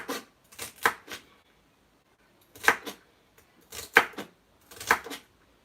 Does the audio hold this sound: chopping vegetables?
yes